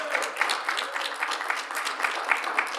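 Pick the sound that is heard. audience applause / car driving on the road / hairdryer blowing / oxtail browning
audience applause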